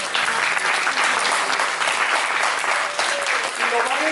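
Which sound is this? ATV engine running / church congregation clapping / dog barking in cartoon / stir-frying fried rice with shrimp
church congregation clapping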